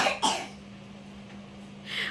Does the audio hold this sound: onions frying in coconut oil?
no